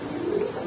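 A Giribaz pigeon at a pigeon seller's, a single low, steady coo held close up for under a second.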